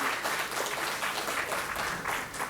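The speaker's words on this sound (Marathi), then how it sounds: "एकदा जोरदार टाळ्या महेश सरांसाठी" Enthusiastic applause from an audience at a Maharashtra business conclave honoring Mahesh Kothare, a dense continuous patter of many hands clapping with slight rhythmic surges, loud and close.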